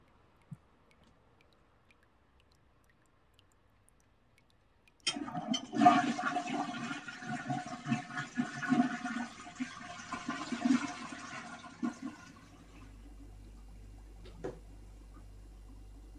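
A household toilet flushes in a bathroom, starting with a sudden loud rush of water that swirls and gurgles for about seven seconds before settling into a quieter low refill hum, with no talking.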